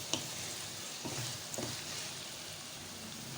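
Minced meat stirred and fried in a pan for spicy mince spaghetti gives a steady close sizzle, broken by a few soft scraping stirs, with no voices.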